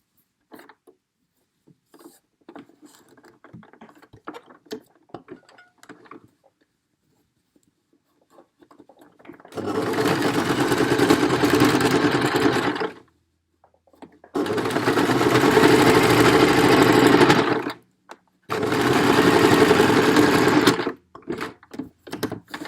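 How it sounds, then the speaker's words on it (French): Sewing machine topstitching through three layers of a fabric face mask, heard as three runs of fast, even mechanical whirring separated by short pauses, with a quiet voice and soft handling noises before the first run. "Une surpiqûre qui va permettre de tenir vraiment les trois épaisseurs ensemble"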